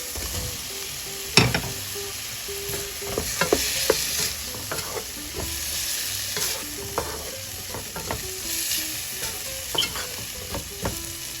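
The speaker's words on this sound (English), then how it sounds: "I'm going to add in my sausages." Sausages frying in a pot with a bay leaf for rice and sausage, a continuous nearby sizzle punctuated by repeated utensil clinks and scrapes as they are stirred.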